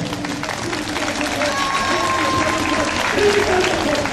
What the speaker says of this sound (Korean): 서석구 변호사님 나올 때 우리 한번 박수 한번 크게.